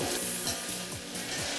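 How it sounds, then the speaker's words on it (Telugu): Potatoes and cauliflower for aloo gobi curry fry in a pan with a steady close sizzle, broken by regular scraping strokes of a spoon stirring the vegetables. "వేగే వరకు ఉంచాలి."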